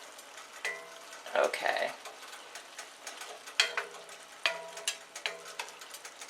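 Tofu is stir fried and tossed in a pan, with faint sizzling under repeated scraping and clattering stirs that come in short bursts; a voice briefly speaks once.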